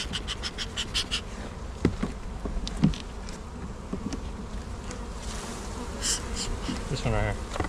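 Honey bees buzz steadily around a pair of hive boxes during afternoon foraging, a continuous droning hum with occasional louder passes as individual bees fly close by.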